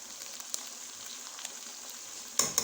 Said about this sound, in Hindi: अब इसमें हम डालेंगे टिक्का मसाला।